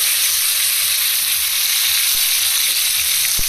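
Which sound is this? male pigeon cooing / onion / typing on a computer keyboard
onion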